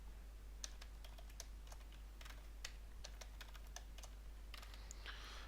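Password being typed on a computer keyboard, a quick run of light, close key clicks in an uneven rhythm over a faint steady hum, with no voice.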